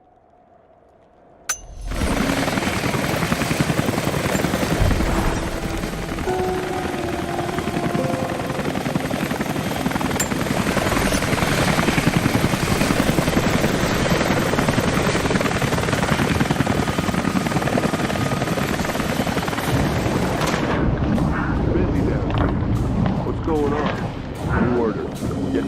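Helicopter in the video game Rise of the Tomb Raider, a loud, steady rotor roar that starts suddenly and runs unbroken for a long stretch before easing off near the end.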